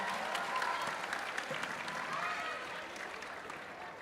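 Steady applause from a crowd at a public town-hall event in Semarang fills the room, sustained clapping at moderate volume with a faint murmur of voices.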